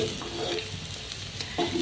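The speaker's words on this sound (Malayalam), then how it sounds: "നമ്മുടെ പച്ചരി നെയ്ക്കകത്ത് നല്ലതുപോലെ വറുത്തെടുത്തിട്ടുണ്ട്" Raw rice roasting in ghee sizzles with light stirring and scraping in a pan, a steady crackle with a few brief clinks, close by.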